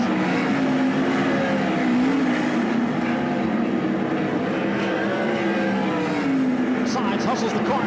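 World of Outlaws sprint cars race around the Mesquite, Texas speedway, a continuous high engine drone with wavering pitch as the field runs through the turns, heard from a distance under steady commentary.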